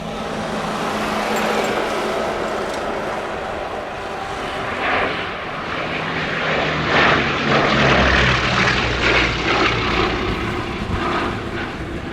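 A Bristol Blenheim wartime aircraft's engines drone loudly at an outdoor vintage airshow, a sustained propeller roar that swells and shifts as the plane passes.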